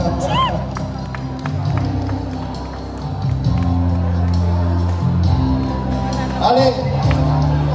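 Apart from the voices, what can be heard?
audience applause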